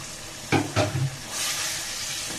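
Washed, drained country chicken pieces going into hot cooked-down spice paste, with a couple of thumps as the meat lands, then a steady loud hiss and sizzle.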